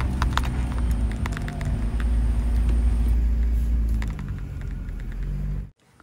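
A vehicle ploughing through deep mud, with a loud, steady engine rumble and scattered thumps and squelches that ends in a sudden cutoff.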